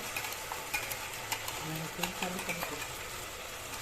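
Cashews and a ground paste sizzle softly in a hot pan while a spoon stirs and scrapes at a steady pace, with voices talking quietly over the cooking.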